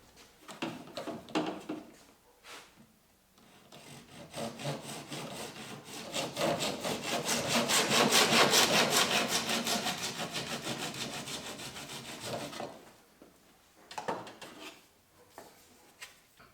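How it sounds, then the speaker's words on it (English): A Japanese pull saw cuts through plastic conduit with steady rhythmic rasping strokes that swell into a long dense stretch of fast sawing, with a few short strokes before and after, close and without talk. "To cut the plastic conduit, I'm only using a Japanese pull saw"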